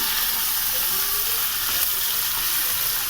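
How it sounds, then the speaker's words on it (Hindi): Chicken frying with onions in a pan, ready to be cooked with bottle gourd (lauki), gives a steady, dense sizzle and hiss that holds close and even throughout with no pauses. "इसके साथ ही फ्राई करना, प्याज के साथ ही।"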